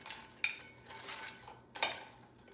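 Utensils stir and toss Caesar salad with croutons in a bowl, making soft scraping and two sharper clinks, quiet and close.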